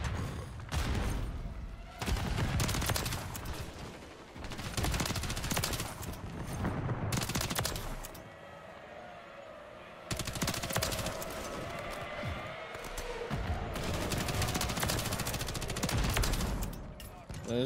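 Gunfire in Modern Warfare 3 while playing with a BAL-27 rifle setup: bursts of rapid automatic shots in loud clusters, with short lulls between them, over continuous game background noise.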